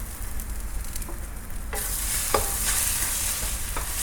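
Beaten eggs and scallion hit a hot pan and sizzle loudly, a broad hiss that swells midway as the spatula scrapes and stirs, with a few sharp clacks of utensil against the pan.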